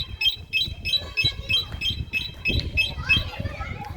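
An Arora CRV 125 motorcycle alarm chirps in a regular series of about a dozen short beeps, close and clear, with someone talking over it.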